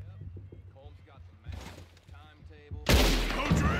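Gunfire in the Red Dead Redemption video game, a sudden loud burst of shots near the end that follows quieter clatter and scattered sounds, with no voice over the shots.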